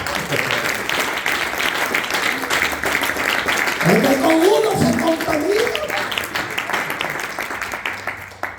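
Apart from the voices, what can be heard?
congregation clapping for God in church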